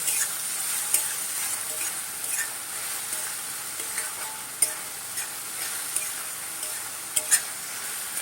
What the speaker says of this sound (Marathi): गॅस एकदम आपण मोठाच ठेवलेला आहे आता आपण कांदा चांगला भाजून घेऊया